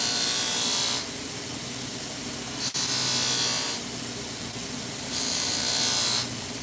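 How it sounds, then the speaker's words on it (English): A knife edge is stropped to remove the burr after sharpening, with long, smooth hissing strokes alternating in a steady rhythm, close and fairly loud, over a constant workshop hum. "We're just going to strop that burr off"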